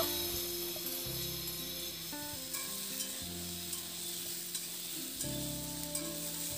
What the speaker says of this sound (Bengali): এবার ঝিঙেটা দিয়ে আলু আর ঝিঙে আবার খুব ভালো করে একটু নাড়াচাড়া করে ভেজে নেব।